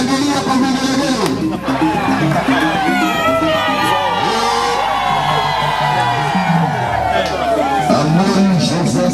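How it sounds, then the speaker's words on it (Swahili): A large crowd at a ceremony installing a new leader cheers loudly and continuously, shrill ululations rising and falling over a dense babble of shouting voices. "Shangilia kwa vigelegele."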